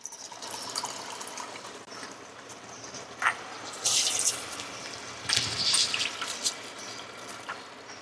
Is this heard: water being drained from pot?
yes